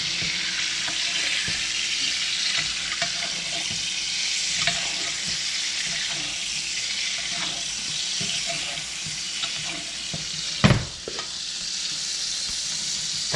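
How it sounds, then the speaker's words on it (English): Steady close sizzling of pork chops in boiling braising liquid, with soft stirring and spoon scrapes, one sharp clunk near the end, no voices. "we're going to coat these pork chops with this boiling,"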